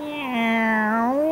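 A cat gives a single drawn-out meow, steady and clear, close by with no other sound around it.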